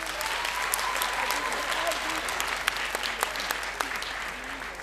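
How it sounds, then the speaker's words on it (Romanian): A stand-up comedy crowd at Sala Maximilian in Buzău claps throughout, a thick, continuous burst of applause with a few sharper individual claps and whoops standing out near the end. "Hai să începem cu niște aplauze."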